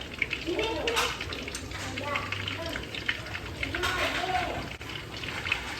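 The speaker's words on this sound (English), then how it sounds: "You need to wait for your oil to be really hot like it is right now." Hot oil in a frying pan, ready for curry meatballs, gives off a steady, close hiss and crackle that runs without a break, while someone talks over it.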